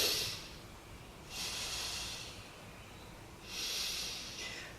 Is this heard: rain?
no